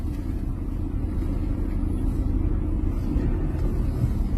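Congested city road traffic on a street in Ataşehir with cars parked in the left lane, a continuous low rumble of engines and passing vehicles, fairly loud and steady with no talking.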